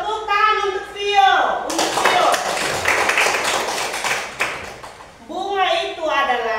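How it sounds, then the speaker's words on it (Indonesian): A classroom erupts in applause for a few seconds, many hands clapping together between stretches of a teacher speaking to the class. "tepuk tangan untuk Vio"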